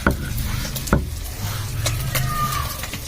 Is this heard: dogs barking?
no